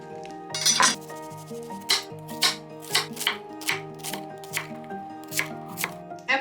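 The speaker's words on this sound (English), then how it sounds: "The only chopping I need to do is just to chop up this onion really quickly." A knife chops an onion, striking a cutting board in a series of crisp, close knocks at an uneven pace, over soft tonal background music.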